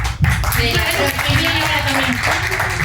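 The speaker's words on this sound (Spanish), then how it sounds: "Un fuerte aplauso y nos vemos la próxima." Audience applause at a live street show, a burst of clapping that begins sharply and carries on steadily beneath a talking voice for the rest of the moment.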